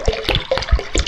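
Water poured from a container into a car during a cheap home repair, a short burst of splashing, gurgling liquid with uneven pulses, close and fairly loud.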